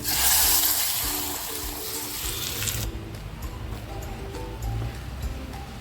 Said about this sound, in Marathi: अळणी पाणी टाकते आता